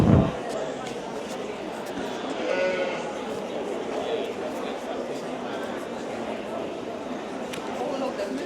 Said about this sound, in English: Blue-faced Leicester with a really nice lamb.